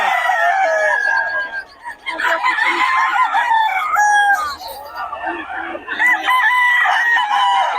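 Young rooster stags crow repeatedly at close range, loud overlapping cock-a-doodle-doo calls mixed with clucking from a flock of fowl, with someone talking in the background.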